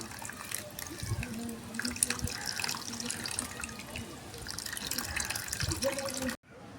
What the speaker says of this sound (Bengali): সুজিতে জল দিয়ে দিয়েছি